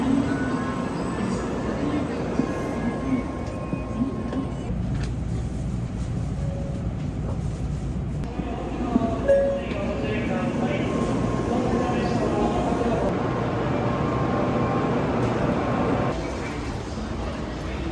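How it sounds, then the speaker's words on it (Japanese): Shinkansen bullet train riding toward Hakata, heard from inside as a steady low rumble and rushing hum with faint rattles, a continuous close drone throughout. "今から新幹線でどこやったっけ、博多向かっていきます。"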